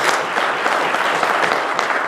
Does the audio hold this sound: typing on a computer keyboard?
no